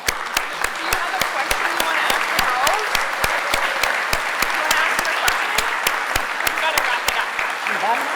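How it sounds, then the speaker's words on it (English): Audience applause at a national gathering on unmarked burials in Montreal, a sustained, even roar of many people clapping with a few sharp, distinct claps standing out at regular intervals across the whole stretch. "you deserve a big round of applause"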